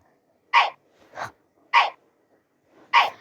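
A dog lets out four short, separate barks or huffs, close and fairly loud, spaced about half a second to a second apart with silence between them.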